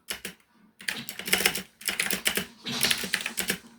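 Fast, uneven computer keyboard typing clatters close up in bursts with brief pauses, no voices over it, during a session of the game Kaiju Paradise.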